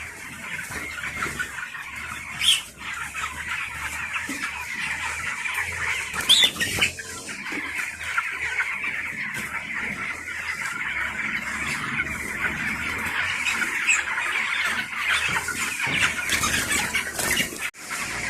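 A flock of 23-day-old broiler chickens clucks and squawks continuously, with occasional sharper squeals and wing flaps scattered through the busy background.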